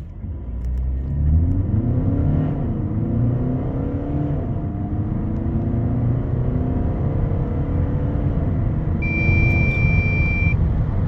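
An Audi A3 8Y 2.0 TDI 150 with S tronic gearbox, in Efficiency mode with traction control on, accelerates hard from inside the cabin, a steady diesel rumble rising through gear changes, with a chime sounding near the end.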